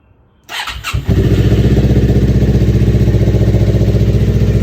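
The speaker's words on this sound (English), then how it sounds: "how the Leo Vinci exhaust sounds on this GSX" A Suzuki GSX 250R motorcycle fitted with a Leo Vinci exhaust cranks over and fires up near the microphone, then settles into a loud, steady, throbbing idle with no talk.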